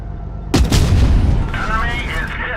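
A single heavy FV4005 tank cannon shot in a tank video game, a sudden loud boom followed by a long rumbling decay and ringing tail.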